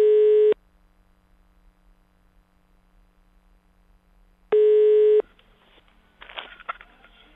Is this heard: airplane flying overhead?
no